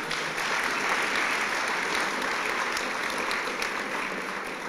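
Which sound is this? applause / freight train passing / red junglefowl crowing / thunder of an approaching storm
applause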